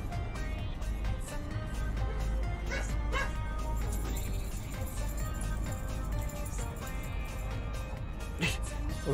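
A dog yips and barks in short bursts at moderate distance, set against a constant dense background hum, with no voices heard.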